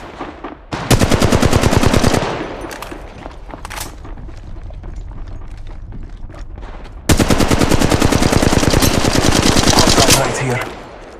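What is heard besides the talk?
machine gun fire in the video game Apex Legends Mobile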